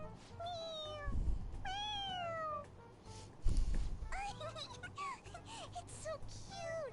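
Cartoonish cat meows in the video game Persona 5 Royal, several rising and falling mewing calls in quick succession over a soft background, with light voice-like chatter mixed in.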